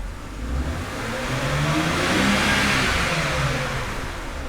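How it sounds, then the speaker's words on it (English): A BMW car engine revs up close by, climbing steadily in pitch and loudness before easing back down, a continuous mid-range mechanical roar with no voices over it. "As I rev the engine, you'll see that the modulation changes."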